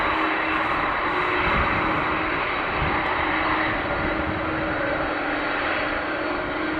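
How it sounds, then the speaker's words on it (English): Airliner at the runway threshold at Amsterdam Schiphol Airport, a loud continuous jet engine roar and whine holding steady throughout, with wind noise over the microphone. "So we might see the front of the airplane as it's on the threshold, ready to get the green light for departure."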